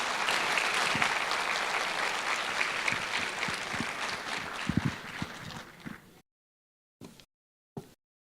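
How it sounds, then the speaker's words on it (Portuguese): An audience at a management talk claps together for several seconds, a full continuous round of applause that thins and fades out, followed by a couple of brief isolated knocks. "Uma salva de palmas para eles."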